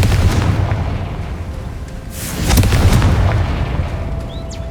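The Confringo blasting spell from the Hogwarts Legacy video game explodes in a loud, rumbling boom that swells midway through the clip over a steady background roar.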